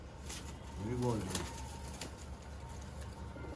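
Pigeons, young birds kept for sale, give a soft cooing call near the start, over steady background noise with a voice talking nearby.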